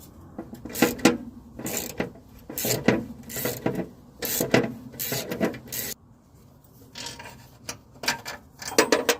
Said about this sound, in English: Using a combination of extensions and U-joints, you can fit a ratchet up here and loosen these.